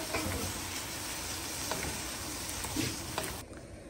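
Prawns frying in hot oil in a kadai give a continuous, close sizzle with small pops and crackles throughout, thinning slightly at the very end.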